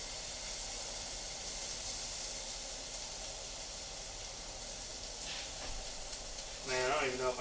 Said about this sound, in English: we're gonna sweat our onion down real quick